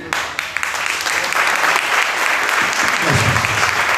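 A church congregation claps together, a loud, dense burst of applause that swells and continues steadily for several seconds, close and filling the room.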